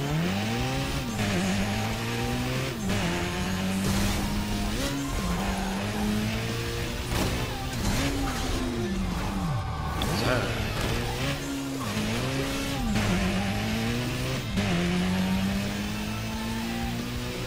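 Race car engines in the video game Burnout Paradise Remastered roar and rise in pitch through repeated gear shifts, with tires squealing and skidding, steady and loud throughout.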